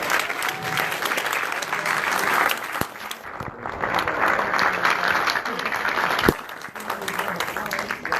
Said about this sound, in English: Let's give a round of applause for Tickled here.